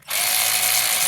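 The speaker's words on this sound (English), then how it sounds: "I am using my cordless ratchet" A cordless ratchet whirs in one short, loud, close burst as it spins a bolt during a throttle body installation, the buzzing motor starting abruptly and running steadily to the end.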